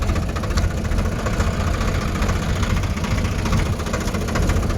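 A tractor engine runs steadily on a farm field during a driving lesson, a loud, continuous low rumble with knocking vibration throughout and no pauses.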